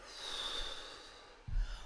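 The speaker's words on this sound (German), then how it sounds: "durch die Nase atmen Sie quasi ein, in den Bauch, der wölbt sich dann nach vorne und dann durch den Mund wieder aus" Deep breathing, a slow breath drawn in through the nose and then let out through the mouth: a long soft airy hiss, followed by a short louder huff near the end.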